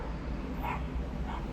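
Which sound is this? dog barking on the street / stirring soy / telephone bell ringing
dog barking on the street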